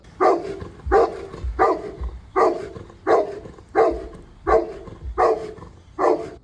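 A Boerboel dog barks deep and loud, about eight evenly spaced barks in a steady rhythm, close by with no talking.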